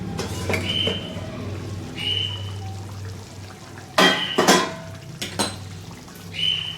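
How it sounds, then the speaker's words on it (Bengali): A lid set onto a cooking pot while Bengali-style matar paneer cooks gives two sharp metallic clanks in quick succession, standing out over a steady low kitchen hum and faint scattered clinks. "আমি এবার ঢাকা দিয়ে দেবো"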